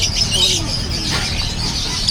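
Pet birds chirp and tweet at the Bocaue pet market, with high, busy calls over a noisy crowded background and people talking nearby.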